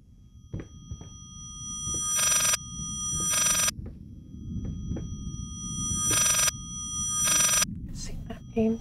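A reversed telephone ring in the horror game Layers of Fear, coming in two pairs of bright, buzzy bursts separated by pauses over a low rumbling game ambience, with a few soft thumps.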